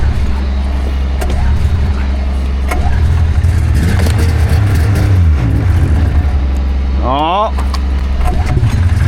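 A 1980 Caterpillar diesel engine on a K-Whopper being started: loud low cranking and rumbling that settles into a heavy, steady idle, with people talking and exclaiming nearby.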